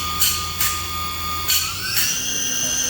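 A 2012 DMG Mori Seiki Dura Vertical 1035 Eco machining center spindle spins at 5,000 RPM, a steady high whine heard from close range, with short bursts of hissing air or coolant breaking in a few times.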